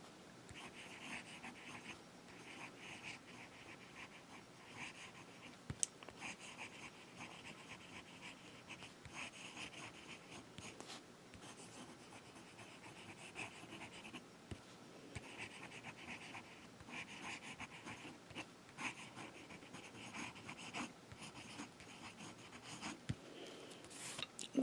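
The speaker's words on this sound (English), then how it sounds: "We'll do a few little S's. And we'll do some writing." A wet fountain pen nib scratches softly across paper in slow, continuous strokes, faint and close, with quiet rustling and occasional small taps.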